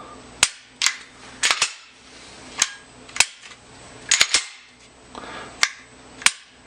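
A Smith & Wesson SW99 pistol in .45 ACP fires about a dozen sharp, loud shots at uneven intervals, some in quick pairs, each cracking out and decaying over outdoor background.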